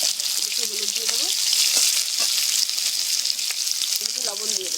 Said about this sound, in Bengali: দিয়ে ভালো করে লাল লাল করে আলুটা ভেজে নেব।